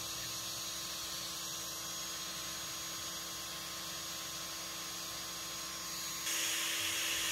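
A Two Trees TTS-20 Pro laser engraver runs while engraving, producing a steady, faint mechanical whir and fan hum with constant tones that gets slightly louder near the end, and no one speaks.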